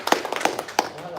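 A man at a live fan meet-up claps his hands a few times, sharp close slaps spaced irregularly, with a voice talking around them.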